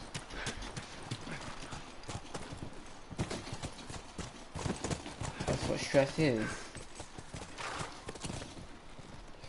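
Horse hooves clip-clop in The Last of Us, a steady rhythmic trot close by, running under ongoing conversation between players.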